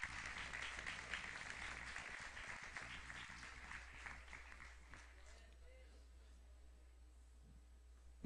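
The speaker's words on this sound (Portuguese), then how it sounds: "Aplausos para eles em nome de Jesus." Applause from a church congregation for performers during a celebration service, fairly quiet and steady for about five seconds, then dying away into near silence.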